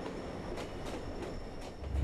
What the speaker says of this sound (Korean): 김유정역은 경춘선 열차의 교행이 이루어지는 곳입니다.